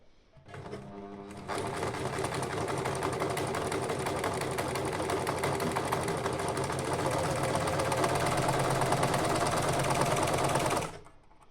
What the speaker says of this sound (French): j'ai pris la petite surjeteuse parce que je l'ai équipée en fil mousse